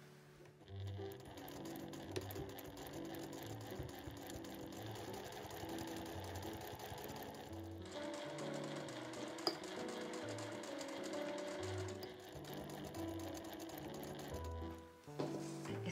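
A sewing machine stitches the side seams of a tote bag with a flap, lining and gusseted bottom, in steady rapid runs that pause briefly between passes and resume, clear and close.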